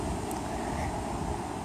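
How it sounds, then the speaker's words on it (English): Steady outdoor wind rushes against the microphone, a continuous broad roar with no talk over it. "it is windy as hell"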